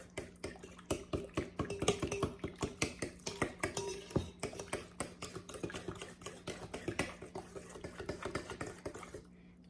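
Spoon stirring cream cheese frosting by hand in a bowl, a fast steady run of scraping clicks and soft knocks that continues for several seconds, close and moderately quiet.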